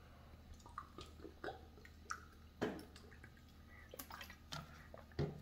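Iced water from the refrigerator poured for a morning drink: quiet scattered drips, splashes and small clinks come in irregular bursts, close by, with no talking.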